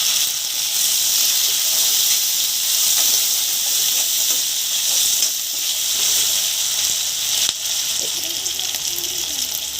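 Green chilies and chopped tomatoes hit hot oil in a pan, producing a loud, steady hiss and sizzle that runs throughout with only small shifts in intensity, while dried fish and taro are being fried.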